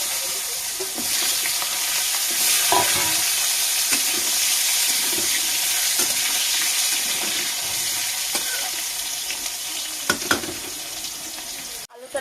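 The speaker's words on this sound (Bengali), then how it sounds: "ফোড়নটা হয়ে গেছে, আলু দিয়ে দিচ্ছি।" Potatoes fry in a pan of hot tempering oil for a fish curry with flat beans, giving a loud, continuous sizzle with occasional scrapes and taps of a stirring utensil.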